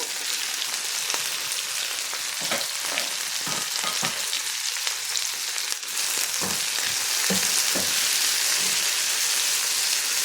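Tomatoes frying under a lid in a pan for pappu charu, a dense, steady hiss with scattered pops and crackles from the fruit softening, filling the whole stretch without any talk.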